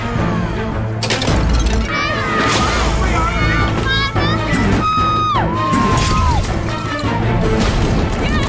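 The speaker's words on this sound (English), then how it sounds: "Pot smashing all over the place." Loud, repeated crashes of pots being smashed during a Survivor challenge, layered over a constant roar of crowd noise and shouting voices.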